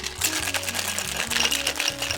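Ice and margarita mix rattle rapidly inside a metal cocktail shaker, a dense, continuous, close shaking over a low background hum.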